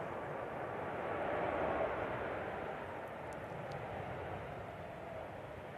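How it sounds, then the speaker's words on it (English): A Ryanair airliner lands at Manchester Airport in strong wind, its faint, distant engine rumble swelling briefly and then holding steady under gusty air noise. "That was a really good landing there from the Ryanair. It was getting hit hard."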